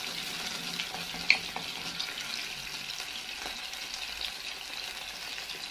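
Garlic and vinegar sizzle steadily in a hot pan, a continuous bright frying hiss with a few small pops and a soft stirring clink, close and even throughout.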